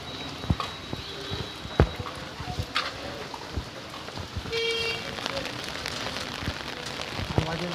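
Heavy rain pours down in a steady broadband hiss, with scattered drops and knocks on nearby surfaces and some faint voices in the background.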